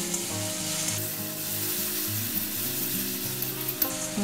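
Spice masala for potol paneer fries in oil in a pan with a steady, close crackling sizzle, stirred now and then, with a faint background hum and no voices.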